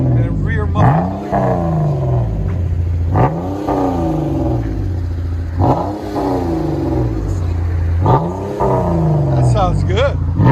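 Chrysler 200 with a 3.6L V6 and a Vibrant muffler exhaust, revving repeatedly in a steady pattern of rising blips close by, with a constant deep exhaust drone underneath.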